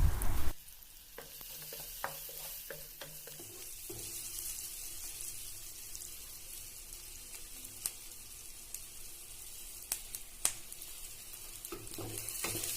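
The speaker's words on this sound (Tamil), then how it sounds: "ஒரு கொத்து கருவேப்பிலையும் உள்ளே சேர்த்து வதக்கி விட்டுறலாம்." Curry leaves being sautéed with fried brinjal in a pan for a Tamil brinjal curry: a steady, soft sizzle runs throughout, broken by several sharp clicks of a spoon stirring against the pan, with no voices.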